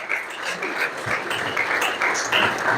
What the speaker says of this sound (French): on peut encore applaudir pour cette initiative